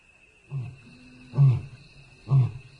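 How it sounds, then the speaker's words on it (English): A lion roars in the wild, heard as three deep grunting calls spaced about a second apart, the last two louder and nearer, with a steady high insect-like hum behind them. "Another roar comes, from much closer this time."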